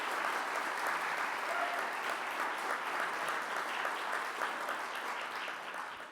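An audience at an awards ceremony applauds in a dense, steady wash of clapping that holds at an even level and eases off slightly at the end.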